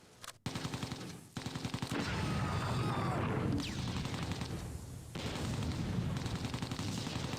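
Sustained gunfire from Close Combat 2: A Bridge Too Far, with bursts of machine-gun fire and single shots. The shooting repeats in rapid rhythmic volleys, with short pauses, and stays loud and steady throughout.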